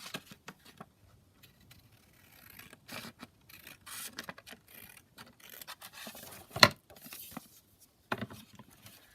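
Scissors cut paper for a junk journal in short, dry snips and rustling scrapes, with one sharp click partway through, quiet and close with no speech.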